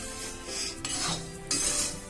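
Peanuts dry-roast in a pan with no oil, giving a soft, close rasping scrape and light crackles, with a couple of louder scraping bursts from stirring.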